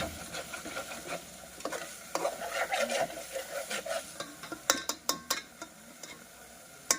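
Vegetables fry and are stirred in spiced masala oil, a soft continuous sizzle broken by repeated sharp scraping and clacking strokes of the spoon, which grow sharper and more frequent toward the end.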